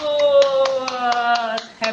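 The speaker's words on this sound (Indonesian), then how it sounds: "tepuk tangan untuk kita semua untuk memuliakan nama Tuhan" People clap at an Easter worship service held over Zoom, with several evenly spaced claps over a sustained sung or spoken voice.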